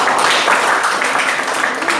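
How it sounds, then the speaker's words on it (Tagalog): A church congregation claps their hands together in a dense, steady burst of applause that fills the room for about two seconds. "Sabi ko po palakpak."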